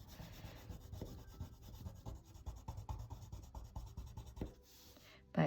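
A pencil and a Sharpie scratch and rub across paper as a drawing of Nezuko gets coloured in, the quiet strokes coming in quick repeated passes.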